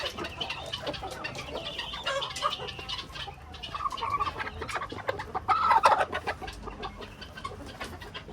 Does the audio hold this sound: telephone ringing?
no